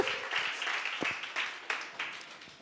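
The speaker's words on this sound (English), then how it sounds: "Come on, give it up to your church, really." A church congregation applauds together indoors, steady scattered clapping with a few sharper claps standing out, moderately quiet and heard without talk over it.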